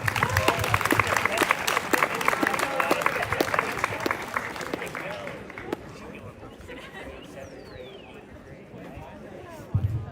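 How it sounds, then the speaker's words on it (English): Audience applause for high school athletes at an athletic awards celebration, a dense burst of clapping with chatter for about five seconds that fades into quiet murmuring and background voices. "Let's have another round of applause for all of these athletes."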